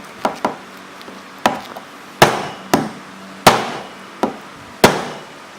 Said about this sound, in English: Let's give it a couple more whacks.